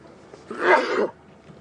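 A single loud, close sneeze bursts out after a moment of quiet, then fades quickly, during an afternoon safari drive at Djuma Game Reserve.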